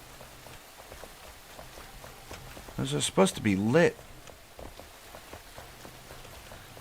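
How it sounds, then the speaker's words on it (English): Steady rain patters in the video game Enshrouded, a soft, even hiss throughout, while a person speaks briefly in the middle. "Obviously, it's the rain."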